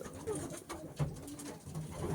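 Young racing pigeons cooing nearby, soft low throaty coos repeating irregularly over faint background noise.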